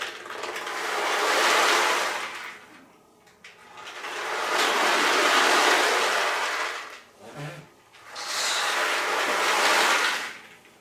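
Dried beans swirled around inside a box to imitate ocean waves, rising and falling in three long washing surges separated by brief near-silent pauses, close and alone.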